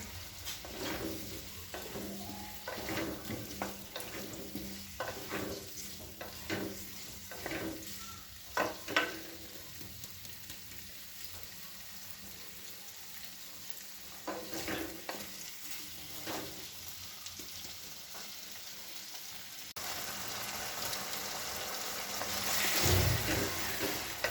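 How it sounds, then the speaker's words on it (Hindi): Potatoes and eggplant for aloo baingan sabzi fry on a high flame in a pan. A steady sizzle runs throughout, broken by repeated scraping strokes of stirring. "हाई फ्लेम पे आपने आलू को अच्छी तरह भूनना है।"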